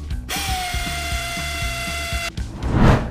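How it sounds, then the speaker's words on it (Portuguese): Rapid mechanical ratcheting from a power tool snugging bolts on a Volkswagen Fox CV joint, a buzzing rattle with a steady whine that runs about two seconds, stops abruptly, then a short rough clatter follows. "a gente vai encostar os parafusos"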